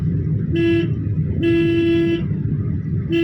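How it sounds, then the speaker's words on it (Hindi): Three car horn honks, two short and one longer, sound loud and close over a steady engine rumble during a driving lesson. "चलते रहिए, हॉर्न दीजिए।"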